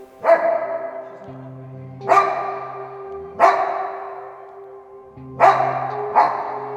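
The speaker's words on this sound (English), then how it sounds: "the growling and the slight barking was the warning shots" A dog gives several sharp barks spaced a second or two apart, with a low rumbling growl between them, close and fairly loud.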